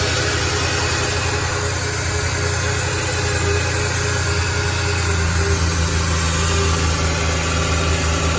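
A 2003 Ford Ranger XLT pickup truck engine idling smoothly after a cold start, a steady close hum with a low rumble that holds even throughout.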